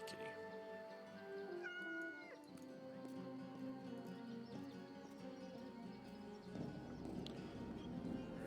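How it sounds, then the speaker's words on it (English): Cat meowing as it is petted in the video game Yes, Your Grace, a few soft mews over a steady bed of game music and ambient sound. "And let's pet the kitty."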